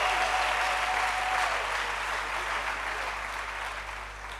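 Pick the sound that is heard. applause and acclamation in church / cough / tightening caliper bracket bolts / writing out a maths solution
applause and acclamation in church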